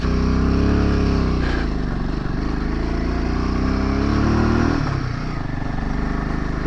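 Motorcycle engine pulling hard in first gear up a steep hairpin road climbing toward Gongkar La in Arunachal Pradesh, a steady loud droning roar close by, with a brief dip in pitch near the end and no talk.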